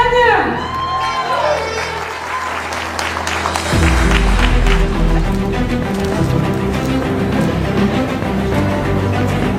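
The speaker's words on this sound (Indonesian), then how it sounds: "Mana tepuk tangannya?" An audience at a celebration event in Pekanbaru bursts into loud, sustained applause and cheering that fills the room after a musical flourish fades.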